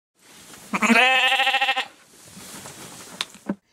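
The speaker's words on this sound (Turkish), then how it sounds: "Kış sezonunu sürdüren besiciler koyun sürülerini ağıllarda beslemeye devam ediyor." Sheep bleat inside a winter pen in the cold highlands of Eastern Anatolia. One loud, quavering bleat lasts about a second, followed by softer shuffling and a couple of brief knocks.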